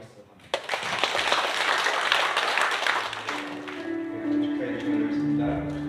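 A church congregation at a thanksgiving service for the Ulju county governor's inauguration bursts into clapping for about three seconds. The applause then gives way to a softer, tonal passage with voices.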